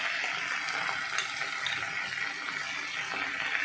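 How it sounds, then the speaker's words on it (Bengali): Bengali spice paste with turmeric frying and being stirred in a pan for a yogurt cauliflower curry, with a steady close sizzle and scraping, no talk. "মশলাটা ভালো করে কষিয়ে নিচ্ছি"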